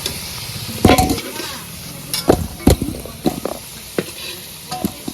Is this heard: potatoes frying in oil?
yes